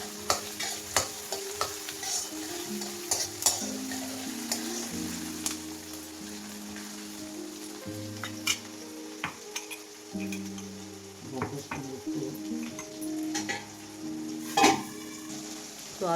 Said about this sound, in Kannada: ಈರುಳ್ಳಿ ಒಂಚೂರು ಫ್ರೈ ಆದಮೇಲೆ ತಕ್ಷಣ ಆಲೂಗಡ್ಡೆ